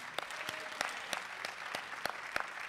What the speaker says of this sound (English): Clap of praise.